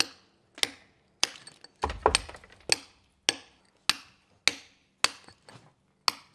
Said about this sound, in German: Ich nehme jetzt hier einen Fäustel und den Sprenger, weil ich hier jetzt am allerbesten in die Fläche mit reinkomme